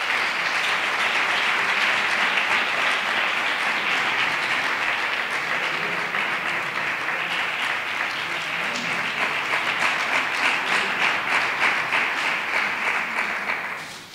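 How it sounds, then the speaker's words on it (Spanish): Sustained applause from an audience at a Three Kings coronation ceremony in Maribáñez, many hands clapping in a dense, loud wash that holds steady before fading out at the very end. "Un aplauso para ellos."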